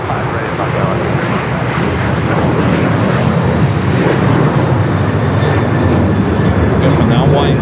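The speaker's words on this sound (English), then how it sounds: "This is the flight coming in from Tokyo Narita, the second Japan Airlines flight of the day" A Japan Airlines jet arriving at LAX from Tokyo Narita roars steadily and loudly throughout as a broad, continuous engine rush, with voices faintly present underneath.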